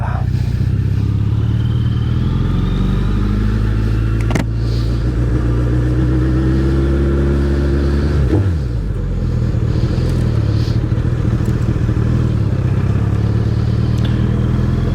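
Suzuki Hayabusa motorcycle ridden on the road, its engine droning loud and steady throughout with strong low rumble, a brief drop and re-rise in pitch around the middle as it shifts gears.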